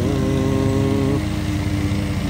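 A lawn mower cutting grass runs with a steady droning engine hum close by, its pitch dropping slightly partway through, with no voices.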